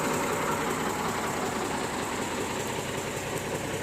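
A motor grader's engine idles in a steady, continuous drone with a low rumble and dense mechanical hum, close and unchanging, with no voices over it.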